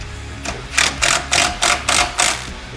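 A socket wrench ratchets in six quick, evenly spaced bursts of clicking on the skid plate bolts of a Can-Am Renegade 1000 XXC ATV, close and moderately loud.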